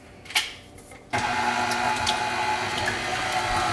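After a brief clink, a KitchenAid stand mixer starts up and runs steadily, beating a large batch of eggs with a continuous whirring motor and liquid churning.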